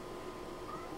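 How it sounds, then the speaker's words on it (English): A cat meows faintly in the background of a quiet room, a soft drawn-out call barely rising above steady low room noise. "if you hear my cat in the background, I apologize for that"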